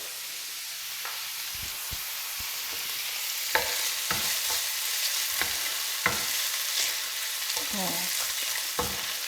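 Garlic frying in a pan alongside cooked cavolo nero, a steady soft sizzle with occasional clicks and scrapes of stirring, close and fairly quiet, no talking.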